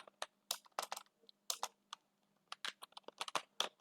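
Fingers tap quickly on a computer keyboard while entering labels in an Excel spreadsheet, a close, crisp patter of irregular keystroke bursts with brief pauses, no voice.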